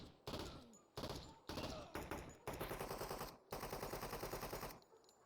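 An enemy blind-firing a gun in the video game Door Kickers 2 produces loud, close bursts of rapid automatic gunfire, several short volleys followed by longer sustained rattling runs.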